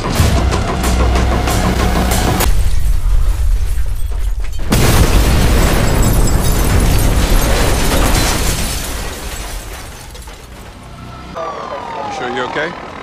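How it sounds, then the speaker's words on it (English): A TV drama explosion that knocks out power to a valley erupts as a loud, sustained roaring blast with rumbling debris, then fades into a lower noisy aftermath with lighter clatter near the end. "Explosion took out power to most of the valley."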